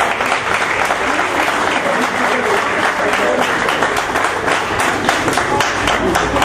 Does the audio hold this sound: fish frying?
no